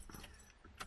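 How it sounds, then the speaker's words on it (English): Car keys jangle as they go into the ignition of a Mk3 Ford Cortina GXL, a few faint metallic clinks and rattles up close with a louder jingle near the end, no talking. "let me just climb aboard Ash's GXL, put in the keys, press the choke,"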